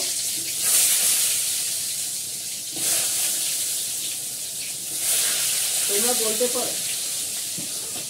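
Hilsa pieces and pumpkin frying in hot oil in a pan for a Bengali fish meal, a steady broad sizzle with brief swells, a short spoken word and some clatter near the end.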